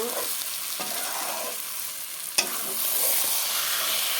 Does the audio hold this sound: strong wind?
no